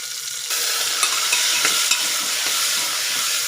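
Green chillies and tomato frying in a pan of oil for Gujarati vaghareli rice: a loud, steady sizzle that jumps up suddenly just after the start and keeps going with a few faint stirring clicks, with no talk.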